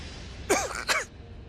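Two quick throat-clearing coughs from a woman who has choked on food, close and fairly loud, with a short gap between them.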